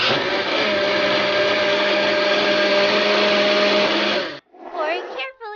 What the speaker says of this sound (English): Chocolate ice cream in the blender.